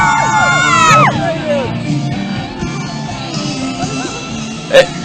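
A crowd cheers and whoops at the 2013 IDBF World Nations Dragon Boat Championships in Hungary, with high rising yells at the start, then a lively, steady din of voices and a brief sharp shout near the end.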